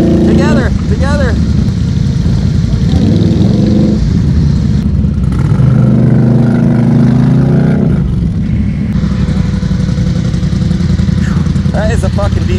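Vehicle engine revving hard while stuck in a deep rut, a loud sustained roar rising and falling with the throttle, with people shouting and talking over it nearby.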